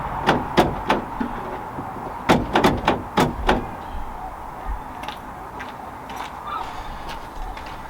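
A jammed van door is tugged at repeatedly, giving a cluster of sharp metallic clunks and rattles in the first few seconds, then fainter knocks and scrapes.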